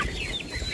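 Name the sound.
chickens clucking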